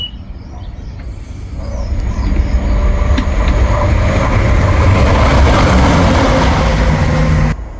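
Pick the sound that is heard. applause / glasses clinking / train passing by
train passing by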